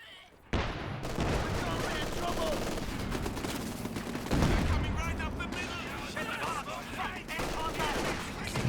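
Gunfire crackles through a busy Company of Heroes 2 battle, with a steady din of small-arms shots and distant bursts running throughout, swelling near the middle; a sniper shot sits somewhere within the dense, continuous clatter.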